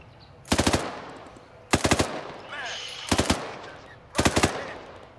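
Four short, loud bursts of automatic gunfire in a combat video game, evenly spaced over a few seconds above background battle ambience.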